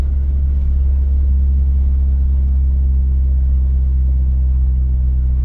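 A fairly old four-cylinder car engine pulls hard through third gear with a steady, loud, low rumble, the drone holding throughout without clear shift breaks.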